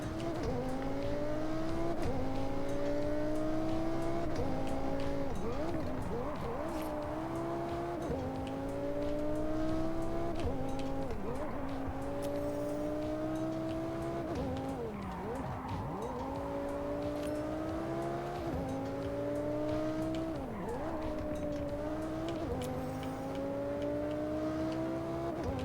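A McLaren car engine in the Forza Horizon 6 video game, revving up through gears repeatedly, each climb ending in a shift dip, steady and prominent throughout with occasional tire noise.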